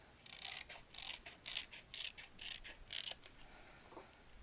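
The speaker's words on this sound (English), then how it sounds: "I'm just going to draw my line and cut it with scissors" Faint, close snips of scissors cutting diagonally through craft paper for a mini album repeat in a steady rhythm of about seven quick cuts, then stop, with no talking.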